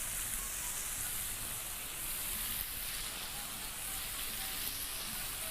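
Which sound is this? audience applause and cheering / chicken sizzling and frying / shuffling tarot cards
chicken sizzling and frying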